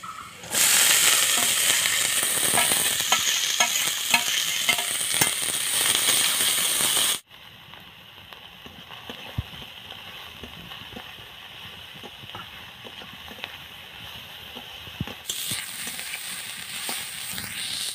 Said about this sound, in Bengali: এবার কেটে রাখা সব সবজি আমি ভেজে নেব। বেশি ভাজবো না, হালকা একটু ভেজে নেব।